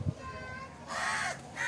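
A crow caws once with a harsh, loud call in the middle, following a brief thump, with faint background noise around it.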